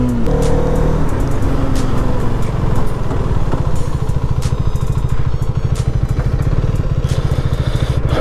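A Hero Karizma XMR 210 motorcycle idles and revs up close, its exhaust giving a loud, steady, throbbing rumble that rises slightly in pitch, with no talking over it.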